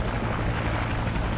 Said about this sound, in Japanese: ヘリ来たー。